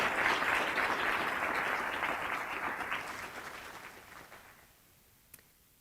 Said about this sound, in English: Have another round of applause for all of our excellence winners.